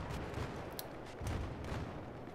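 AK-74 gunfire in the video game Battlefield 3: short bursts of rapid, loud, close rifle shots, with two clusters separated by a brief lull, with no talking.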